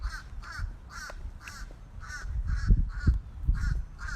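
Crows caw outdoors in a steady series of short, evenly spaced calls, close and clear, over low rumbling background noise.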